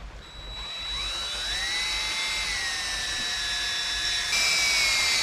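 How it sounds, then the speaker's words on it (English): Power drill spinning an engine's oil pump to prime the turbo during an engine swap, a steady high whine that rises in pitch and stays loud and close throughout, with no talking. "Just gonna spin this with my drill."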